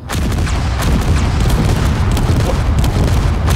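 Rapid bursts of video game gunfire in Space Engineers crack and boom one after another, a dense barrage of sharp shots over a deep rumbling low end.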